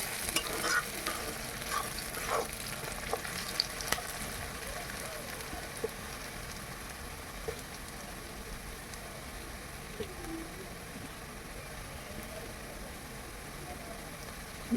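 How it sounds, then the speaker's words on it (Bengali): Onions frying with salt in refined white oil for Bengali chicken chaap give a soft, continuous sizzle with light stirring scrapes, and a faint voice is heard at times. "একটু লবণ দিয়ে দিলাম যাতে পেঁয়াজটা তাড়াতাড়ি ভাজা হয়ে যায়"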